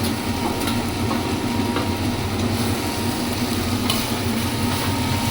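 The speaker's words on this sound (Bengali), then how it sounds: "এবার কর্নগুলো দিয়ে দিচ্ছি" Baby corn goes into a pan of sizzling chilli and Schezwan sauces and is stirred, producing a continuous dense frying hiss with soft, irregular stirring scrapes throughout.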